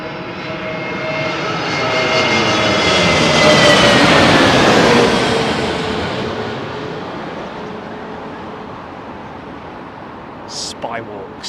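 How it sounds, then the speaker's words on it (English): A jet airliner on arrival at London Heathrow, its landing gear down, passes overhead, a loud roaring rumble that swells to a peak and slowly fades away, with a faint voice at the end. "Better weather conditions to see these aircraft landing from a distance."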